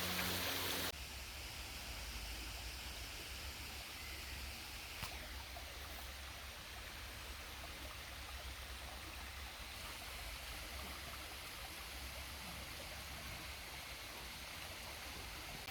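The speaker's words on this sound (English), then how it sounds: "Here's a view of the creek from the other side of the bridge. Love the sound of the water." Creek water flowing beneath a bridge in a Vancouver Island park, a steady, even rushing close by that continues unbroken after a brief louder burst at the start.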